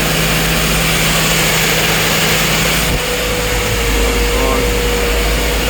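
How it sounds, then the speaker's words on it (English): A tractor-driven MarMac Twin Puff strawberry sprayer runs its fans off the PTO with the engine near 600, giving a loud, steady, unbroken roar and drone close by, with only a brief dip partway. "And then activate one fan at a time."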